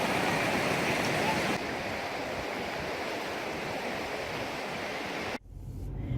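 Hot river water at Boiling River in Montana rushes in a steady, loud, broadband roar that holds nearly the whole time, softening partway through before cutting off near the end.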